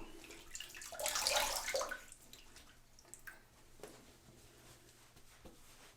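Running water splashes as a face is rinsed after a wet shave, with a louder burst of splashing early on, then quieter dripping and handling sounds.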